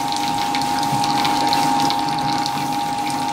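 A Fisher & Paykel washing machine pump drains water with a steady, loud mechanical hum and the rush of water through it. The sound holds constant throughout, up close and without talk.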